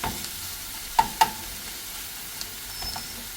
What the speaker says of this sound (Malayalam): പച്ചമുളക്, മല്ലിയില, കറിവേപ്പില. ഇത് മൂത്ത് വരണം.